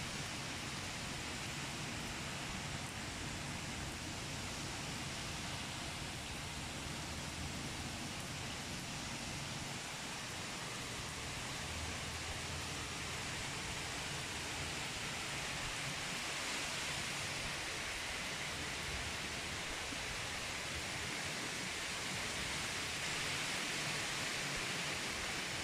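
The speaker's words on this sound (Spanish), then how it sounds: "Fuerte lluvies con viento." Heavy rain and wind from Hurricane Dolores on a beach and hotel zone: a dense, steady hiss of downpour with a broad windy roar, constant and unbroken throughout, with no voices.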